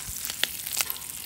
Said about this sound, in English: So I'm about to get off these last couple of pieces of bacon.